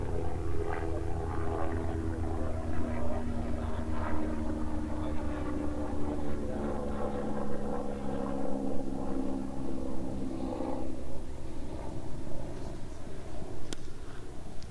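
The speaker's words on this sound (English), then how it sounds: "a helicopter passes overhead" A steady, droning helicopter rumble with a throbbing low hum passes overhead at a county cricket match, loud and continuous, slowly fading toward the end.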